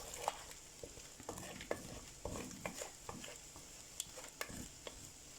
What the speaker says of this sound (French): je dois pas arrêter de mélanger jusqu'à ce que les œufs seront cuits